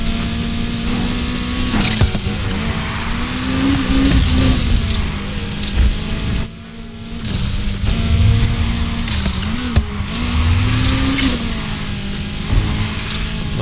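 A McLaren sports car in the racing game Need for Speed Heat drives with a steady, loud engine drone that rises and falls with throttle, including a brief dip near the middle, and no talk over it.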